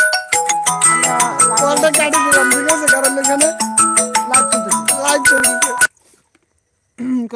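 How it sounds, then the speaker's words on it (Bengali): A mobile phone blares a loud, rhythmic melodic ringtone for an incoming call, cutting off abruptly near the end, followed by a brief burst of voice. "আরে ওমর ওমর ফোন দিচ্ছে"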